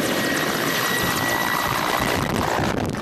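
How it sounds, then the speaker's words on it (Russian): A military helicopter supporting troops preparing to land during an exercise, its rotor and turbine roaring loud and constant for the whole stretch. "Бойцы готовятся к высадке с вертолета."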